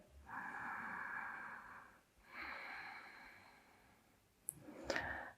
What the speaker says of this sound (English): Take a couple of deep breaths here.